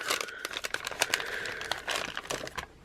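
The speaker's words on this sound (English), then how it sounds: "And I am just packaging them back into this bag, folding it back over." Plastic bag crinkling and rustling as small craft items are packed back in and the bag is folded over, a steady run of close, irregular crackles and crisp rustles with no talk.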